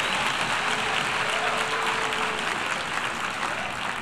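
Sustained audience applause at an International Day of Happiness event, a full room clapping steadily and fairly loudly for several seconds, with no talking on top.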